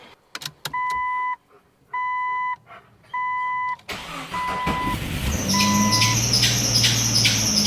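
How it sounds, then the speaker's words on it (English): A newly installed engine in a Jeep XJ cranks and fires up after a run of dashboard chimes, then settles into a steady idle with a loud, high-pitched belt squeal riding on top. "so I got some belt squeal"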